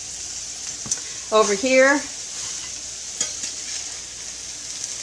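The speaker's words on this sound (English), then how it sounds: "now that the vegetables are sauteing" Vegetables for a gluten-free turkey tetrazzini sautéing in a pan, a soft steady sizzle with a brief spatula stir and scrape, while a voice speaks briefly in the middle.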